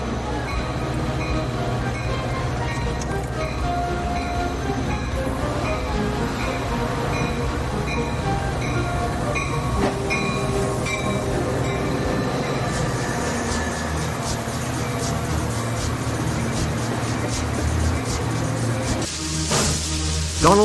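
A train arriving at a station rumbles steadily along the rails for a long stretch, with a constant low roar and occasional metallic squeals near the end.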